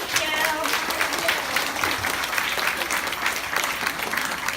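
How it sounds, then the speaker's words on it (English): An audience at a school commencement ceremony applauds after the keynote speech, a dense, steady wash of many hands clapping without pause from start to finish. "another big round of applause for Alec"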